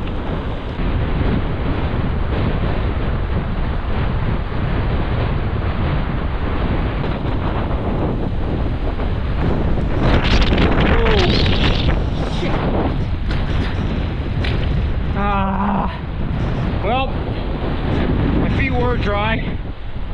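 Strong mountain wind buffets the microphone in a loud, constant roar with gusting swells during rainy solo camping, with short bits of talk partly buried in the rumble.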